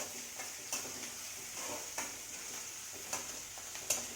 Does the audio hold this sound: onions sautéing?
yes